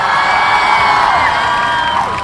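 A large rally crowd at a political gathering in Gujrat, Pakistan, cheers and applauds in a dense, continuous roar that stays loud and steady throughout, with shouts and whoops rising from the mass of voices.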